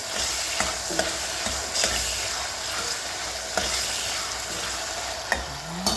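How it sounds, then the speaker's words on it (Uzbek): Steady frying sizzle fills the pan as ingredients are fried while a utensil scrapes and stirs at intervals, with occasional sharp clicks; no talking. "Qovuramiz hammasini."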